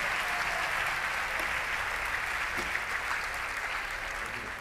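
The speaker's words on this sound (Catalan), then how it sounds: "Un aplaudiment per la tasca que fan, si us plau." An audience at a sports awards night claps in sustained, dense applause, a steady wash of many hands that holds loud and even for several seconds with no speech over it.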